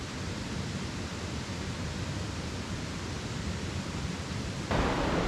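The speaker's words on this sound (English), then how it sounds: "Just take a look at this absolutely beautiful white water" White water rapids on a forest river rush with a steady, broad roar that fills the air evenly from start to finish, close and loud, with no voices.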